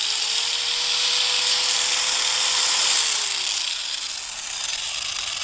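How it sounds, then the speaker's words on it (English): A handheld angle grinder runs on power from a portable solar generator, giving a steady, loud, close high-pitched whine that holds level and then drops slightly in pitch as it slows, with no voices. "let's go ahead and connect one of our favorite tools, the grinder"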